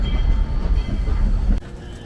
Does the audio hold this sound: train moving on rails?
yes